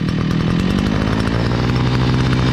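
A petrol brush cutter's two-stroke engine, freshly started and adjusted during a repair, runs with a loud, steady, close buzzing drone throughout with no pauses.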